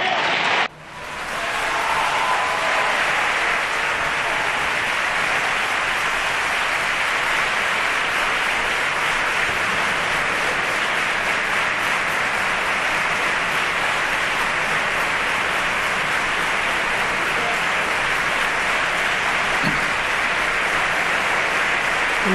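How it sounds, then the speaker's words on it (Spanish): Partido Popular deputies give Mariano Rajoy a loud, sustained ovation in the parliament chamber after his investiture vote, thick clapping that starts abruptly and holds steady for over twenty seconds. "Pues recibe Mariano Rajoy el aplauso de los diputados del Partido Popular"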